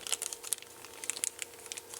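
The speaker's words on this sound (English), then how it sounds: "All the components are in one plastic bag, held together with just a piece of painter's tape" A plastic bag holding synthesizer kit components crinkles and rustles in the hands, with quiet, sharp, irregular crackles close by and no voices.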